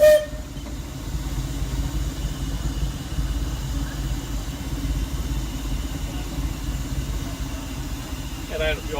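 A Disneyland Railroad steam locomotive running, heard up close from the cab and tender as a continuous low mechanical rumble with hissing, and a brief sharper sound at the start.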